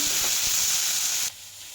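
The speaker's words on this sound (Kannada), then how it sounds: "ಟೊಮೊಟೊ ಕೂಡ ಎಣ್ಣೆಯಲ್ಲಿ ಚೆನ್ನಾಗಿ ಫ್ರೈ ಆಗಬೇಕು" Three medium-sized chopped tomatoes sizzle in hot oil in a pan while cooking a greens and black-eyed pea curry, a steady loud hiss that drops abruptly to a quieter simmer near the end.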